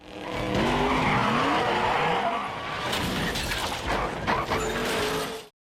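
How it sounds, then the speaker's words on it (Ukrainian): Fuel tanker truck skidding and swerving in a Fast & Furious 4 film chase scene, loud sustained tire squeal and rumbling engine with shifting tones, ending in a sudden cutoff, no talk. "далекобійник запалив її, через що він почав виляти і підрізати Домініка"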